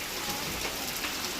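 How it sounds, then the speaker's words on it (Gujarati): Rain falls steadily outside, a continuous even hiss of drops pattering on surfaces, soft and unbroken, with no voices. "બાર વરસાદ ચાલુ છે"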